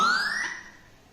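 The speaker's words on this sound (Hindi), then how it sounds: "जैसे ही एसएमएस सेंड हुआ ये सायरन शुरू हो जाएगा।" A phone anti-theft app sounds a loud electronic siren alarm, a single rising wail that stays close and clear, then fades over about a second with no voices.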